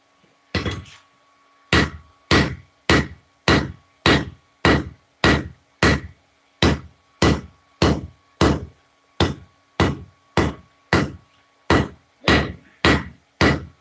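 Steady, evenly spaced hammer blows on a tanto knife blade being forged ring out one after another, about two per second, loud and close with no talking.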